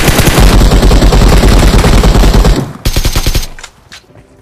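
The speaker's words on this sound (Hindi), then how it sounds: "अब गोलियों की आवाज हमें दूर से आ रही थी" A loud, rapid burst of automatic gunfire in the BGMI battle royale game runs for a couple of seconds, then breaks into a few scattered shots that fade out.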